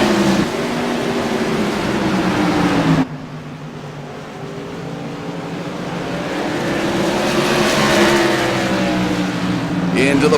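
Modified race cars at New Smyrna Speedway roar as they accelerate on a green flag restart. The loud, dense engine drone drops in pitch, then builds and rises again as the pack speeds away, with a commentator's voice partly mixed in.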